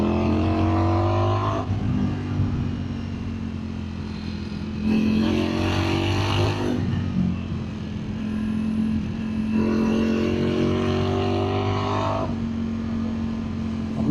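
A 2025 Ducati Streetfighter V4S motorcycle riding through corners, its engine loudly revving up and easing off in repeated waves, with rising pitch on acceleration and wind noise, close and continuous.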